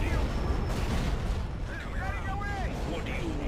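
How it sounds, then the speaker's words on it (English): Artillery fire in a strategy video game, a dense, rumbling barrage of distant booms and blasts with some whistling projectile sounds, steady and moderately loud under a game soundscape. "Luckily, artillery corps doing admirably, as is usual."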